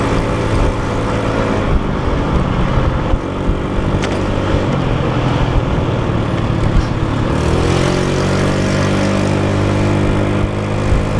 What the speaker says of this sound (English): That exhaust definitely sounds different to me.